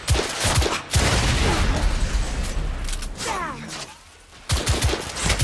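Heavy gunfire in a shootout in the video game The Order: 1886, with dense, overlapping bursts and booming shots crowding together nearly continuously, a brief lull near the end before the firing resumes loudly.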